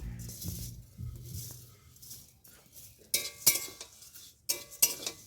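Flattened rice dry-roasting in a metal wok, dry scraping and stirring with spoon clinks and a few sharper scrapes toward the end, close and fairly quiet.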